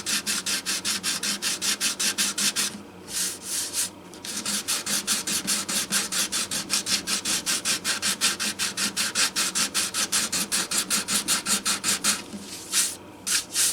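Sanding by hand with 120 grit sandpaper over an uneven, damaged surface, a steady fast back-and-forth rasping stroke that repeats continuously, close and fairly loud with a couple of brief pauses.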